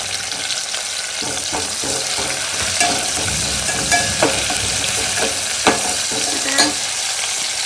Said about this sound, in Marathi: आपण आता हा कांदा लालसर भाजून घ्यायचा आहे